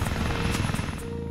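A Turkish Aerospace T929 heavy attack helicopter in flight on its first flight, its rotor thumping loud and close with a steady throbbing beat over a deep engine drone.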